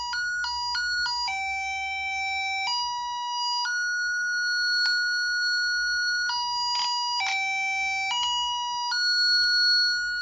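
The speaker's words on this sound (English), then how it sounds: "it looks like we have different strengths or frequencies here: 800, 1000 hertz, and 1500 hertz." A Klein Tools VDV500-820 toner sounding a series of steady electronic tones that switch between several pitches, including 800, 1000 and 1500 hertz, loud and close with no talk.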